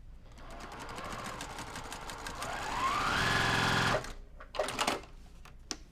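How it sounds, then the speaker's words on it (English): A domestic sewing machine runs over previous stitches on a quilt block, a fast rhythmic whirring that rises in speed, holds, then stops, followed by a few faint clicks and handling sounds. "Now I sewed over previous stitches so that I don't leave a gap or anything."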